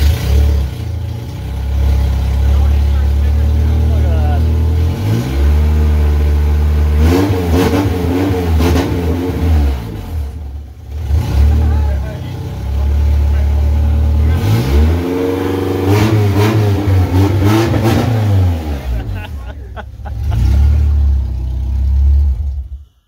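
A Honda K24 engine swapped into an AE86 Toyota Corolla runs close by, rumbling at idle between repeated loud revs that climb and fall, with one brief pause midway.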